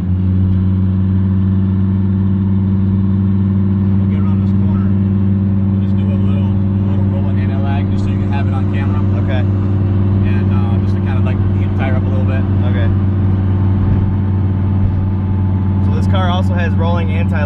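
Twin-turbo V10 Dodge Viper ACR, a Calvo Motorsports 1800 hp build with rolling anti-lag, rumbles loudly and steadily at a close, high idle throughout, with light revving and someone talking over the engine.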